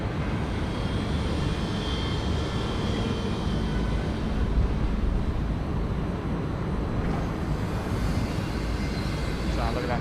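Malaysian Boeing 737-800 airliner landing on runway 19 right at Bangkok airport, a steady loud broadband engine roar filling the whole stretch, with a voice talking faintly underneath.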